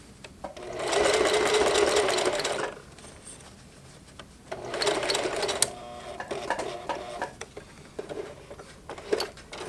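A Singer Heavy Duty sewing machine stitches a hem on jeans across a thick serged seam, running in two long bursts with a pause between and scattered ticks and clicks as the needle works through the layers.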